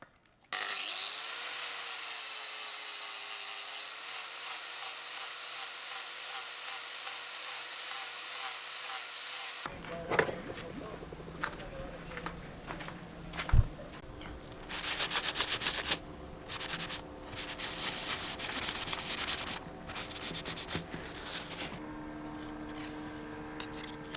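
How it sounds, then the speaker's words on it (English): Flap disc on an angle grinder sanding back damaged gel coat on a boat, a loud continuous whine that shifts into rougher, uneven grinding bursts as the disc bites, with no talking. "I'm just going to sand that back with the flap disc, and then I'll fill that with epoxy filler"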